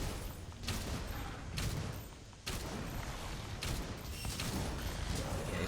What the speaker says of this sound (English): see all these shots? These are going to heal me like crazy.